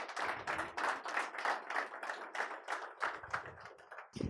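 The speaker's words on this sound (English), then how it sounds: "Huge round of applause for his parents" An audience at a talk show applauds a guest's parents, a short burst of quick, fairly faint hand claps that rises and then fades, with no talk over it.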